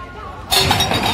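Glasses clinking and crashing down as a thrown ball knocks them off a table at a fairground game, a sudden bright burst of clattering glass after a quiet moment.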